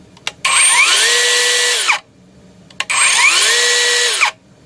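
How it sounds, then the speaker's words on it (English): A small 20V cordless mini circular saw, running without its blade, whirs up to a high steady whine and winds down, twice in a row, each run about one and a half seconds, loud and close. "I'm going to run this for you now without the blade."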